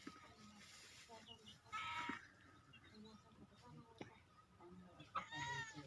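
A cat meows a few times, short nasal cries surfacing now and then amid household chatter and background voices.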